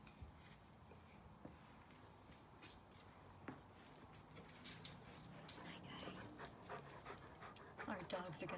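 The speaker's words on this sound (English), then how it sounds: "Our dogs are going to greet us out here, Moses and Tucker" Dogs named Moses and Tucker pant and snuffle close by on an urban homestead, with footsteps, scuffling and people talking over them, growing livelier toward the end.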